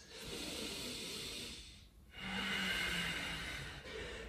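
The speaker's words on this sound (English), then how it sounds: "Breath in. Breath out, harnessing that heat." Slow, airy breaths during a yoga flow from high plank: a long hissing exhale, a brief pause, then another full breath in, close and steady.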